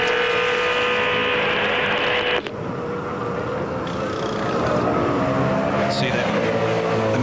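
Race cars from Bathurst 1000 practice roar past in a loud, continuous engine blare that shifts pitch as they go by, with a sharp change midway and another car sweeping through near the end, with talk faintly underneath.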